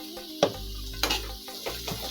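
Turmeric powder frying in oil in a pan, stirred with a spoon, giving a quiet steady sizzle with a few sharp scraping clinks of the utensil against the pan.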